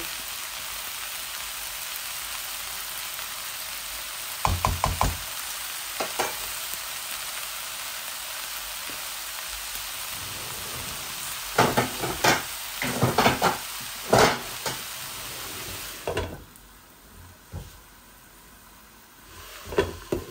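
Gourd shoots and leaves fry in a pan until reddish, giving a steady close sizzle and crackle throughout, with clusters of sharper scraping stirs and spatula clacks in the middle, then a quieter, softer sizzle near the end.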